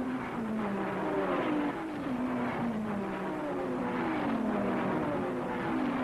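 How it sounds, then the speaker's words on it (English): Race cars at the 1961 Le Mans 24 Hours, including Ferraris and Triumph TR4s, roar past in a continuous loud engine drone whose pitch rises and falls as the cars pass. "the Rodriguez brothers' Ferrari, tearing through the field after a poor start"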